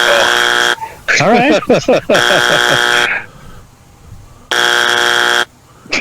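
Loud, sustained game-show style buzzer blaring in long harmonic bursts during a sports talk show, sounding three times with speech and excited voices between the blasts.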